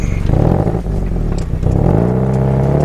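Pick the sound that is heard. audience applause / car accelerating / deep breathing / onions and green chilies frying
car accelerating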